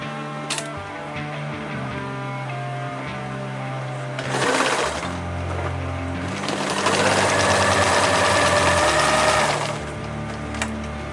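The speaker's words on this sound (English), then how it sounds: "Fold the other side and sew it as well" A sewing machine stitches webbing on a 50L rollup backpack in bursts: a short run, a pause, then a longer rapid buzzing stretch, close and fairly loud.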